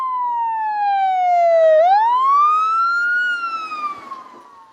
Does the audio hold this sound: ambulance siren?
yes